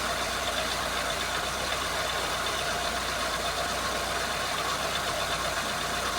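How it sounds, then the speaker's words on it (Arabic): A Renault Logan car engine hums steadily with a low rumble, holding an even idle throughout with no voices. "هنفضل سايبين العربيه شغاله لحد ما المراوح تشتغل."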